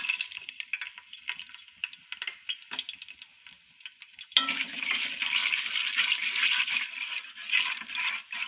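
Masala spices frying with an onion, tomato, garlic and ginger paste in a pan, first as faint intermittent crackles, then a steady louder sizzle in the second half, with no speech.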